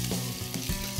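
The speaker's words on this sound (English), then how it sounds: "Now you can start to add the prawn." Prawns sizzle loudly in a pan with pepper paste, a dense close frying hiss with a couple of stirring scrapes, heard alone.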